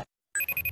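A telephone rings after a brief silence, a bright trilling bell that pulses rapidly and sounds loud and close.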